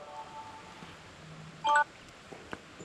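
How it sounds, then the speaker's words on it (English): A phone alarm goes off on a hiking trail between Harpers Ferry and Ashby Gap, a short, bright burst of beeping tones heard once, fairly close, over quiet outdoor ambience. "My phone alarm's going off."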